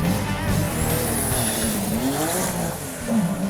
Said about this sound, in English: What I'm hearing is the world's fastest street legal Porsche.